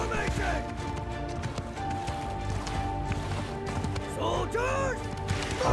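Horses gallop in a large Mount & Blade II: Bannerlord battle with hundreds of troops and horse archers, a dense clatter of hooves mixed with clashing combat noise and brief whinny-like cries, loud and continuous.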